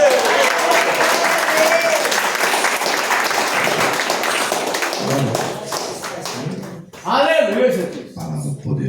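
A church congregation applauding after a sermon, dense clapping filling most of the stretch with a voice speaking over it, then thinning out as speech takes over toward the end.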